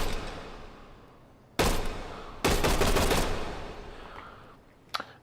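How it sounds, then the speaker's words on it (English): A Thompson SMG firing .45 ACP from a 30-round stick magazine in a VR game lets off two loud close bursts of rapid automatic fire, each trailing into echo, followed by a single sharp shot. "Fires from a 30-round stick mag and is firing the 45 ACP round"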